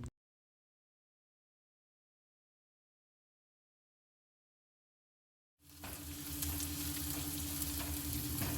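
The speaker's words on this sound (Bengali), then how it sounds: "দিয়ে সব কটা সবজি সুন্দরভাবে ভেজে নেব" Garlic, chilli, onion and capsicum frying in a pan for red sauce pasta: after a long silence, a loud, steady, close sizzle and crackle cuts in and holds to the end.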